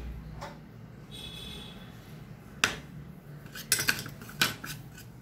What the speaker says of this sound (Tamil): இதை வந்து இப்போ நல்லா மிக்ஸ் பண்ணிடுங்க